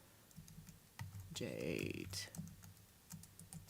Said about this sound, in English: Sorry about all the keyboard.